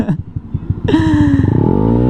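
A Yamaha Aerox 215cc scooter engine idling unevenly, then the throttle opens and revs climb smoothly and loudly, held close by.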